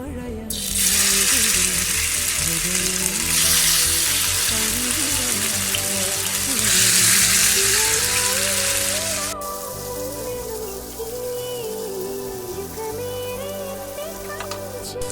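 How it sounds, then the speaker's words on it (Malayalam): Marinated chicken frying in a pan for restaurant-style chicken fried rice gives a loud, steady sizzling hiss that drops to a quieter level partway through, with a low tonal hum underneath. "മാരിനേറ്റ് ചെയ്ത് വെച്ചേക്കുന്ന ചിക്കൻ ഇട്ടു."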